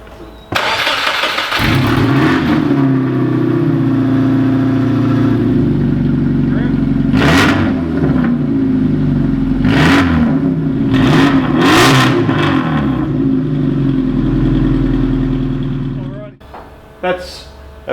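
An EJ20 engine on a Subaru Brumby with its factory 2-inch exhaust dumping after the catalytic converter cranks and fires up, settles to a rumbling idle and is blipped into several sharp revs before shutting off, close and loud.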